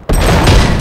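A burst of gunfire in The Godfather video game opens abruptly and then holds as a dense, loud volley of shots for under a second.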